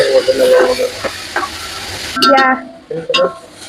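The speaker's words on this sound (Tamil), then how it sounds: "இந்த வெங்காயம் வந்து நல்லா வதங்கி பொன்னுற மாதிரி வரும்" Onions frying in a pan for Tamil-style chicken biryani, a soft sizzle with scraping stir strokes running under a woman's speech throughout.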